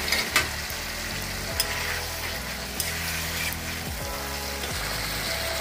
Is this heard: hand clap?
no